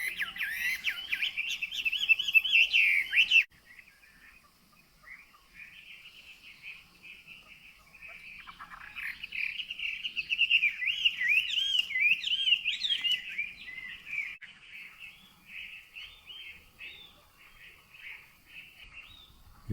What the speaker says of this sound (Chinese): 这里有一只野的母画眉鸟